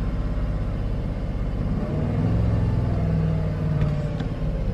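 A manual-transmission car with its engine running pulls away as the clutch is released, heard from inside as a steady low engine rumble that swells slightly midway.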